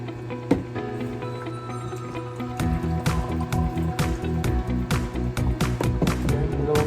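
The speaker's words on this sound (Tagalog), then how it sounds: "Tapos lalagyan din natin ng tubig," Water poured into a blender jar, two cups added to a homemade organic juice mix, a steady close splashing and trickling with scattered drips and clunks throughout.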